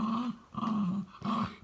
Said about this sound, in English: Come on, you crazy dog.